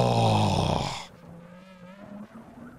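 Deep, rumbling exhaust from Lamborghini Aventadors and other supercars under police escort in Indonesia, loud and close at first, then fading to a lower, steadier drone.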